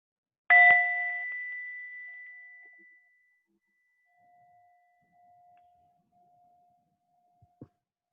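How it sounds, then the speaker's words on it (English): A mindfulness bell struck once, a clear near ding with a long ringing decay fading over a few seconds, followed by faint lingering tone and a couple of small knocks in a quiet room. "I'll start with the ringing of the bell."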